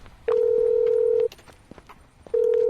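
In the video game ChatLinx, a phone call is dialed, giving two loud steady electronic tones, a long one and then a shorter one after a pause, with faint clicks between.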